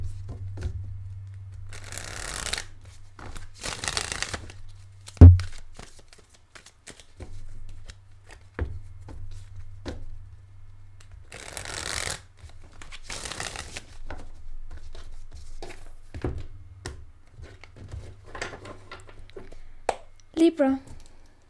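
Two or three bursts of cards being riffled and shuffled, each lasting about a second, with a low steady hum and occasional quiet speech in between.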